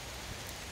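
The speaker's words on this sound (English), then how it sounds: "This is seriously heavy rain." Heavy rain pours down outdoors in a dense, even hiss of drops hitting surfaces, steady and close throughout with no voices.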